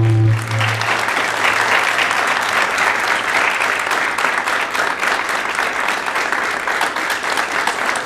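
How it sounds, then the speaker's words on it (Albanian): Audience applause at a poetry festival evening in Pristina, a steady, full round of clapping from a large crowd sustained for about eight seconds at even loudness, with no voices over it. "Unë njoftoj jo me një minutë heshtje, por me një duartrokitje të fuqishme."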